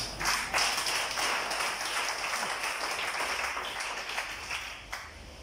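Church congregation applauding to acclaim the Lord during a French-language prayer sermon, a steady broad wash of clapping throughout, fairly close and sustained without pause.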